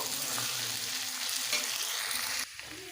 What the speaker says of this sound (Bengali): এবারে দিয়ে দেব বেটে রাখা মশলাগুলো আদা জিরে শুকনো লঙ্কা দু মিনিট কষবো